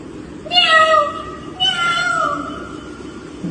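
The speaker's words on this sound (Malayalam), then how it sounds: "അത് കഴിയുമ്പോ പൂച്ച" A cat meows twice, the first call from about half a second in and a second one near 1.6 seconds, each a drawn-out, rising-then-falling cry, fairly close and clear over a faint background hiss.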